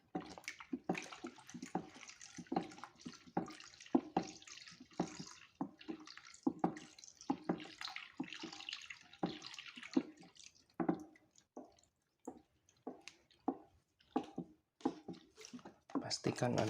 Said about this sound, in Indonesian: Sambil kita aduk.